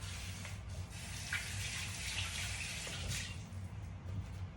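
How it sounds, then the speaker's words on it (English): Tap water runs steadily into a sink while hands are rinsed clean of a savory spice rub for ribs, a continuous close hiss with a low rumble underneath and no talking. "Wash my hands off."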